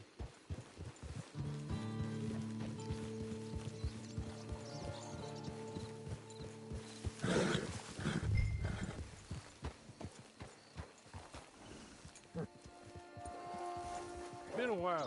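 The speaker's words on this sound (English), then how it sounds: "Get your horse." Hooves of a horse in a PlayStation 4 game, clip-clopping in a steady rhythm alongside whinnies, tonal game music and sound effects, with a louder burst midway; hooves are fairly close and moderately loud.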